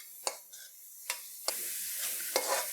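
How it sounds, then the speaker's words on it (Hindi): Turmeric and chili roast in a pan with a soft sizzle, punctuated by a few sharp spoon clacks against the pan at uneven intervals, close and quiet. "अब इसकी हल्की सी भुनाई कर लेंगे हम, इसको अच्छे से मिक्स कर लेंगे साथियों।"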